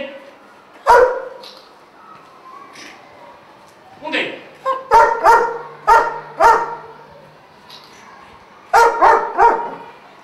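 A search and rescue dog barks in several loud, close bursts, a single bark first, then a rapid run of four or five and another quick cluster near the end, with a person's voice speaking between the barks.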